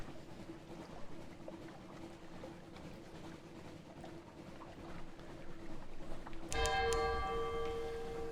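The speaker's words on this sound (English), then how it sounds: "Distant bells." In the video game Sunless Sea, a low hum of ship and sea ambience gives way to distant bells ringing out suddenly, their struck tones lingering and fading over the drone.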